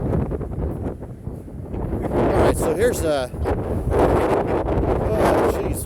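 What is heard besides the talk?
strong wind at Land's End, San Francisco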